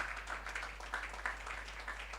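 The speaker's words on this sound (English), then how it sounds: "Please, let's be very generous with our applause." Faint, steady applause from a conference audience at an AI summit panel session, a soft continuous patter of many hands at a distance with no voices.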